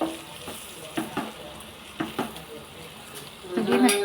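Eggs sizzling in a pan as they are stirred, a steady frying hiss broken by a few scraping knocks of a spoon and a louder clatter near the end.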